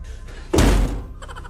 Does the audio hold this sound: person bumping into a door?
yes